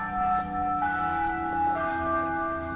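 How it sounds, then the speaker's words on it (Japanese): A loud noon chime like a school bell rings out across Tokashiki Island, sustained tonal bell notes stepping through a short melody, heard from a distance with gentle outdoor ambience and no talk. "渡嘉敷島って今12時の鐘なんですけど、この学校のチャイムみたいなのがいきなり鳴るんですよね。"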